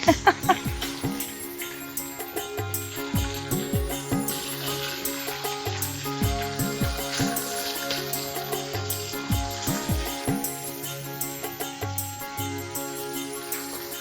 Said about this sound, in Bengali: মাছের দুপিঠ ভাজা হয়ে গেলে যত্ন করে কড়াই থেকে নামিয়ে নিচ্ছে